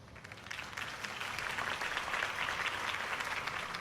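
Crowd applause in the video game Batman: The Telltale Series claps steadily, swelling a little and holding at a moderate level without any voices over it.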